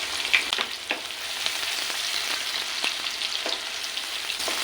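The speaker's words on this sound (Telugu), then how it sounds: "ఆయిల్ వేడెక్కింది తరిగి పెట్టుకున్న ఆనియన్ ఒకటి వేసుకుంటాను అలాగే నాలుగు పచ్చిమిర్చి కూడా తరిగి పెట్టుకున్నాను వీటిని కూడా వేసేసుకోవాలి" Chopped onion and four green chillies frying in hot oil for a cucumber and prawn curry, a steady close sizzle with scattered crackles and occasional stirring scrapes, no voices.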